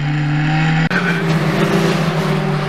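Historic Formula Ford race cars at the Brands Hatch circuit roar loudly and close, their engines holding a high droning whine that shifts pitch abruptly as the cars pass, with no talk.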